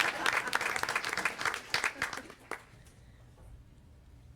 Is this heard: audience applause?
yes